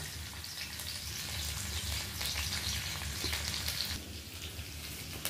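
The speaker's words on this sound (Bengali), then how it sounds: "প্রথমে আমরা তেলের মধ্যে দিয়ে দিয়েছি 5 ফোড়ন, তারপর আমরা দিয়ে দিলাম কাঁচা লঙ্কা কাটা এবং রসুন" Green chili and garlic paste frying in oil with five-spice seeds, a steady dense sizzle and crackle holding at an even level throughout with no voices.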